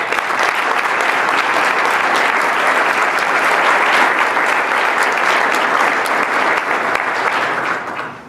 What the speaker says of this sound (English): Let's give all these groups a round of applause.